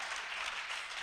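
A brief burst of audience clapping at a Hult Prize campus event, a dense wash of hand claps heard close and alone for about a second.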